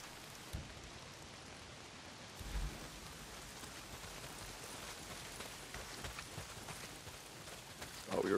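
Heavy rain pours down steadily in the Days Gone video game, a dense, even hiss with a few louder thumps and gusts.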